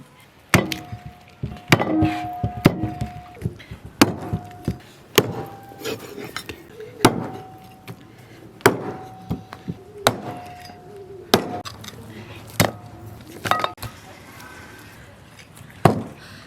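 Heavy cleaver blows chopping beef ribs on a wooden board for a braised beef rib dish, a steady run of sharp, loud, close thuds about one every second, with faint voices in the background.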